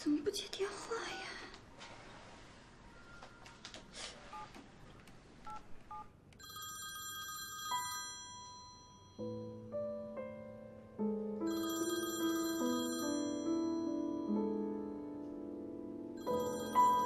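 An unanswered telephone rings repeatedly in a tense indoor drama scene, a steady electronic ringtone pattern in repeated bursts, with whispered and anxious speech and background music beneath it.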